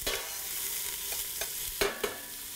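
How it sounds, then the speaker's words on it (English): Garlic sizzles in a hot pan while it is shaken and stirred, giving a steady close frying hiss with a few sharp utensil scrapes and knocks near the end. "And add our garlic in. And as we're doing this, you're going to see, easiest way is to kind of shake that and stir it as we go"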